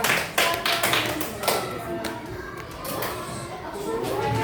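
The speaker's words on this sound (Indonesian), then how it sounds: "Tepuk tangan buat kelompok." Classroom pupils clapping for a group, several sharp, fairly uneven claps up front that settle into lighter scattered patting, with voices murmuring underneath.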